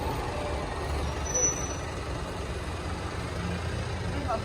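A London bus on route 209 pulls in to a stop, its engine rumbling low and steady with a brief hiss of air brakes, heard outdoors at moderate distance with no talking.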